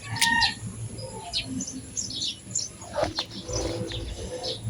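Chickens near succulent plants cluck and chirp in short, close calls, with a few bird tweets mixed over a steady low background.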